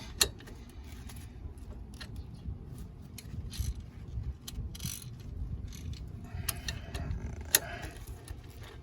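Ratcheting and clicking of a 5/8 wrench working a 15mm brake caliper bolt on a company van during a brake and rotor job, with scattered metallic ticks and clanks over a low steady rumble, close up.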